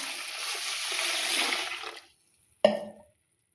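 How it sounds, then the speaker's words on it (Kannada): Water poured from a vessel onto soaking grains and fenugreek seeds to rinse them for paddu batter: about two seconds of steady pouring, a short silence, then one sharp splash that fades quickly. "ಈಗ ಇದಕ್ಕೆ ನೀರು ಹಾಕಿ ಚೆಂದಾಗಿ ಒಂದು 3 ಸರ್ತಿ ತೊಳಿತೀನಿ ನೋಡ್ರಿ"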